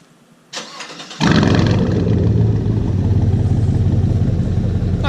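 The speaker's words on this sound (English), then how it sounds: "So a little warm start inbound for you guys that love the exhaust on the truck." A truck with an aftermarket exhaust cranks over on a warm start, a brief starter whir then the engine catching with a sharp bark and settling into a loud, deep, rumbling idle close by.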